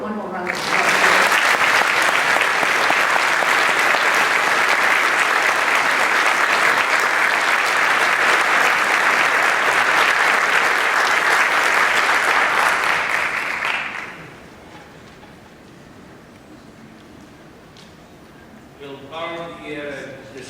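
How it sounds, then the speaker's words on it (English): Concert audience applause, a loud, dense and sustained wash of clapping for about fourteen seconds that cuts off abruptly into quiet room tone, followed by a voice beginning to speak near the end. "Let's give her one more round of applause."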